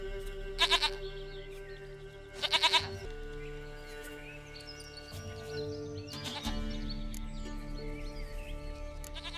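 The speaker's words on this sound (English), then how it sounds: "Goat of mine, dearest," Two short bursts of goat bleating early on, then a longer bleat later, over a quiet, steady background of tonal game music from The Witcher 3.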